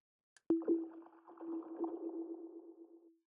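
A single plucked, bell-like music box synth note from the Lunacy Audio BEAM plugin rings out and sustains with a shimmering, slowly fading tone, alone and fairly soft.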